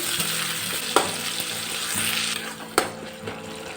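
Chopped tomato with salt sizzles in a pan of hot oil, a steady close frying hiss with two sharp spoon knocks and some soft stirring, no talk heard.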